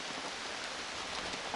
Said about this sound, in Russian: вот вам и дождик